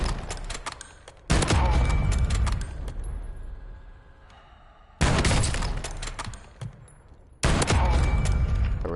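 Sniper rifle fire in Call of Duty: Warzone: three loud, sharp shots spaced a few seconds apart, each with a long, rumbling echo that fades between them.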